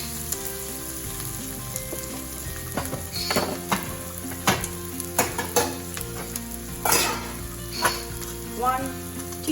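Stuffed bitter melon (karela) sizzles steadily in a hot pan, a continuous loud frying hiss broken by repeated sharp scrapes and clinks of a utensil stirring against the pan.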